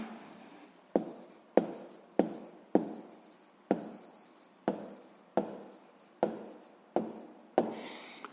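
Pen or chalk writing out a sixth-grade arithmetic mean answer, a steady series of about a dozen sharp scratchy strokes at a brisk, even rhythm, each with a quick attack and short fade, close and fairly quiet with no talking.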